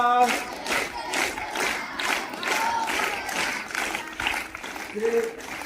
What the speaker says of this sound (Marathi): एकदम सावकाश नाही, जोरात टाळ्या वाजवा.